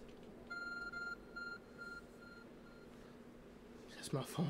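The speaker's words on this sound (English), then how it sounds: "That's my phone from real life." A real-life phone beeps four times in an evenly spaced series, each tone shorter and fainter than the last, over quiet game background, then a sharp clattering noise follows.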